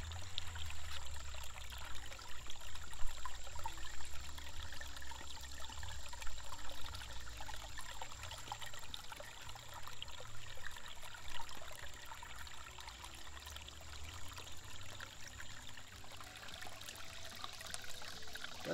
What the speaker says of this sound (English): we're just gonna interchange using this little adventure sluice here